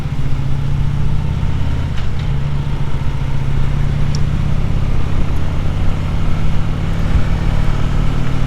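A Harley-Davidson motorcycle on a ride gives a continuous, even engine rumble mixed with steady wind noise, loud and unbroken, with no talking.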